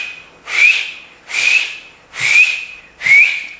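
Four short, shrill finger whistles with breathy rushes of air, evenly spaced about a second apart, loud and close with nothing else behind them.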